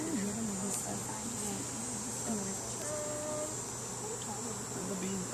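Honeybees at a university apiary hive give a steady, close insect buzz with a wavering drone throughout, while people speak quietly nearby.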